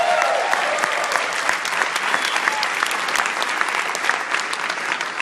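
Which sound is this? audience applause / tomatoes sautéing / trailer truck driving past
audience applause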